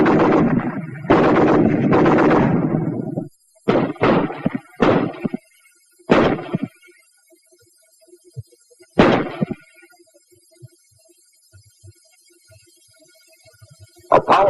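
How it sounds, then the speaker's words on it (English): A Browning Automatic Rifle fires in a 1943 wartime training film: a few sharp, loud bursts and single shots with silent gaps between them, following a brief stretch of narration. "The BAR, 80 shots a minute."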